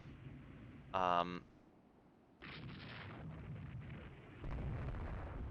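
Naval guns open fire in the ship combat game Rule the Waves 3, a sharp tonal burst near one second followed by a broad rumbling volley from about 2.4 seconds that swells louder toward the end, with no talk.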